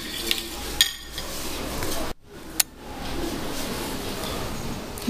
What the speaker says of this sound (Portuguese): Então vou misturar bem essa nossa cobertura.